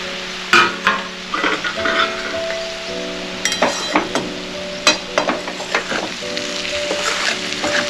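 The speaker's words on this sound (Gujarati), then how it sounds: "હલાવી લઈએ આપણે." A potato vegetable curry is stirred in a pan, with a loud, close sizzle and frequent scraping and clinking of the spoon against the metal throughout.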